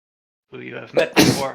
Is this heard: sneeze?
yes